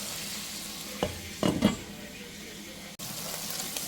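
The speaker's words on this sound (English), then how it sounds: "Cook my smoked turkey sausage in some olive oil till they turn nice and brown." Smoked turkey sausage frying in olive oil gives a steady sizzle, with a few louder clatters and stirring bumps near the start and a brief dropout later; nothing is spoken.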